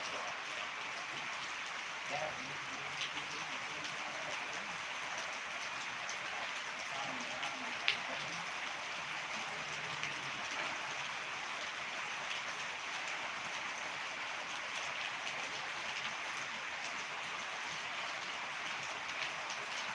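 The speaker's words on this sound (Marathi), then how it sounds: "आम्हाला आता खूप पाऊस झालेला आहे आज" Heavy rain falls in a steady, even hiss that fills the whole stretch, heard from a moderate distance, with faint muffled voices now and then beneath it.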